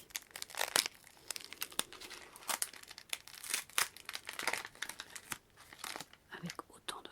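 Gift paper heavily wrapped with tape being torn and unwrapped up close, with sharp crinkling and ripping bursts in irregular rhythm, joined by soft whispered talk.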